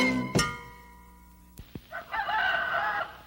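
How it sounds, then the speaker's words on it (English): A rooster crows in a farmyard, heard fairly close after a few sharp knocks and thumps, its call rising and holding for about a second. "He's a rooster, and every other chicken in the yard does what he says."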